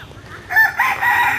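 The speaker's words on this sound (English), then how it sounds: "Roosters are crowing." A rooster crows nearby at a village school in rural Thailand, a loud, strained call rising and trailing off over a low rumbling background.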